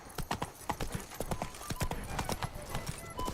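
Horse hooves clip-clop in a quick, steady galloping rhythm on open ground in The Witcher 3 video game, close and continuous, with no talk over them.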